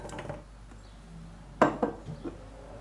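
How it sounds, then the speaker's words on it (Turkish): A clatter of dried apricots and raisins dropping into a metal pot for compote, a quick cluster of clinks and taps after a quieter moment of faint handling. "Tencerenin içerisine alalım üzüm ve kayısıyı."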